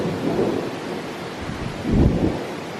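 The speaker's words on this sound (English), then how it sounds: "My first thunderstorm out at sea." Thunder rolls out at sea during a thunderstorm seen from a cruise ship, a low, steady rumble that swells louder near the end over a constant hiss of rain.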